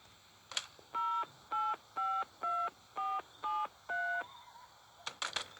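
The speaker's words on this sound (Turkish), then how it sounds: "Telefondan polisi arayacağız ve bunu tutuklayacak." In the video game Mr. Meat, a telephone dials to call the police: seven evenly spaced dual-tone keypad beeps, clear and close, followed by a few short clicks.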